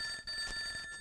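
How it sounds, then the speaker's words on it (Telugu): A landline telephone rings with a steady electronic trill that holds across the whole moment, moderately loud indoors, no voices over it. "Cell phone కాదనా, land phone."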